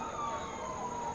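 A fire truck siren wails steadily in the distance at night during a city fire in Padang, faint and continuous, with a low rumble of traffic underneath.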